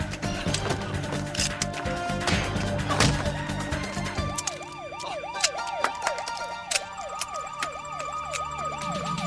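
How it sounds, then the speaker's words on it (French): A wailing police siren rises and falls repeatedly, growing more prominent after a burst of noisy commotion at the start. "Des sirènes! Des flics arrivent!"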